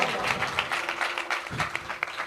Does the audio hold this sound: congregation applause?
yes